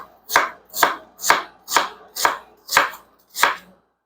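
A knife chops jicama into matchsticks on a cutting board, seven crisp, evenly spaced strokes at a steady rhythm, close and clear with no talking.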